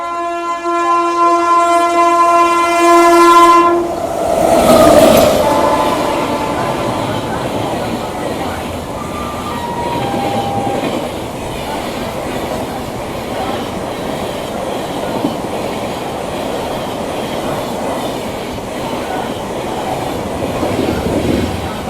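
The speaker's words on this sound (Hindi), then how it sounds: "सामने से आ रही है 12225 कैफियत एक्सप्रेस, जो कि आजमगढ़ से दिल्ली के बीच चलती है" The 12225 Kaifiyat Express, running late between Azamgarh and Delhi, sounds a long horn as it approaches Hathras Junction, then roars past with continuous rumbling and clattering wheels, loud and close.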